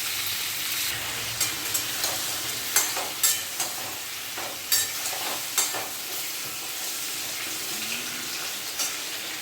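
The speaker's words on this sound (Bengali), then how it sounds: "এবার কুমড়োগুলোকে ভেজে নেব।" Pumpkin pieces frying with potatoes in a pan, a steady hissing sizzle broken by regular scraping stirs every second or so, close and clear, with no talking.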